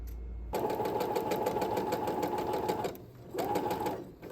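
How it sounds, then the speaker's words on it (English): A sewing machine stitching a pressed-under hem on a garment runs in one steady burst of about two and a half seconds, pauses briefly, then stitches a shorter second run, close and clear with no talking. "I'm gonna press under and sew it just like I did the arm and the bottom"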